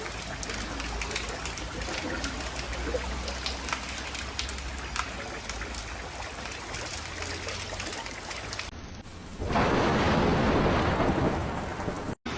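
Storm Claudia thunderstorm over rural England, steady heavy rain with a deep rumble of thunder, then the downpour surges louder and closer before cutting off abruptly.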